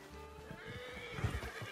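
A horse in Red Dead Redemption II whinnies and snorts close by, a short breathy neigh with a few hoof clops, set against a low in-game ambient hum.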